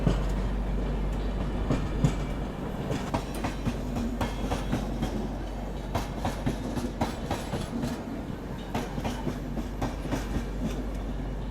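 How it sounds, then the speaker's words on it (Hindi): A train running on the line towards Naini near Prayagraj, a loud, continuous rumble with rhythmic clickety-clack of wheels over rail joints heard close up for the whole stretch. "तो उस लाइन पे ये ट्रेन जो है वो जा रही है"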